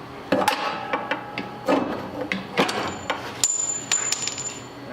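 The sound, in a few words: big hammer striking Mustang lower control arm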